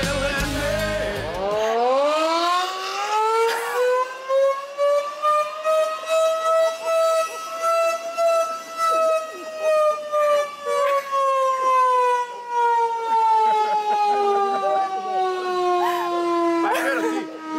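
Civil defense general danger siren wailing loud and sustained, its rising then slowly falling tone filling the whole stretch, with faint voices or background noise underneath.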